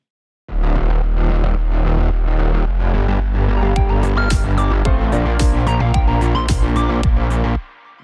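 A loud, deep sub bass drones continuously under a dense electronic mix, its level pumping rhythmically from sidechain compression before stopping abruptly.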